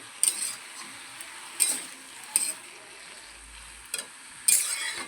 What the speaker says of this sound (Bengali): আমি শাকের সবজিটা তুলে দিয়েছি, এটা কষিয়ে কষিয়ে করা হবে